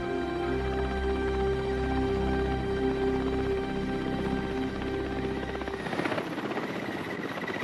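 Helicopter rotor thumping steadily over snowy Siberian tiger country, loud and continuous, with the blade chop shifting and thinning toward the end as the craft changes position.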